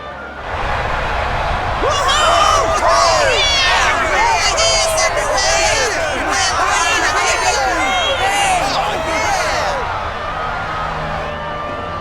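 Loud crowd cheering with excited voices and whoops in the video game Dragon Quest XI, a fan club cheering on two girls at an arena; dense, sustained for most of the stretch before easing slightly near the end.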